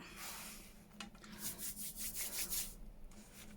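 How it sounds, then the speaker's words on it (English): Quick, faint rubbing strokes scrape across a paper journal page, a soft rhythmic rasping in short bursts close by against a quiet background. "Let's just rub that off. If you rub it quite fast, it just gets rid of it."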